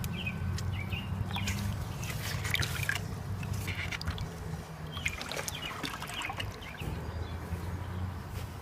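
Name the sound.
stirring worm tea in a bucket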